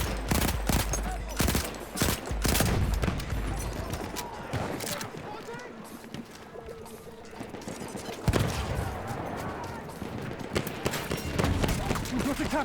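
Machine gun fire in the multiplayer shooter SubMerge: long stretches of rapid, close automatic gunfire bursting loudly on and off, with voices shouting over the shooting.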